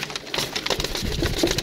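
A pigeon coos softly a few times amid a muffled, fluttering background, close by.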